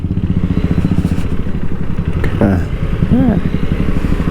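A KTM Adventure 390 single-cylinder motorcycle runs close by at steady road speed, a loud, pulsing engine drone with wind rumble, and a voice speaks briefly over it.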